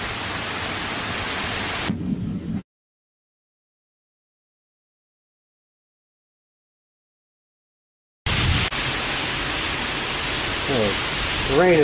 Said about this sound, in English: The rain is actually going sideways.